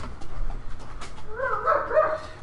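Dogs let out indoors make faint yips and whimpering barks, quiet and scattered at first, then a brief cluster of higher-pitched yelps before it settles again.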